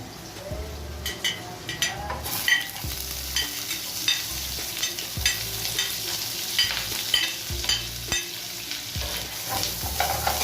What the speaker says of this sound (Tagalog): Konting cooking oil. And then susutay lang natin ang kanyang vegetable.